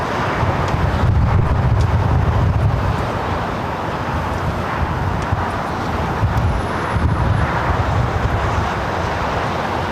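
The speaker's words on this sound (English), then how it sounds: "This is Lufthansa 457 taking off to Frankfurt on the 747-8 Intercontinental." A Lufthansa Boeing 747-8 Intercontinental takes off from LAX in heavy rain, a loud, sustained jet roar mixed with wind buffeting on the microphone, steady for about ten seconds.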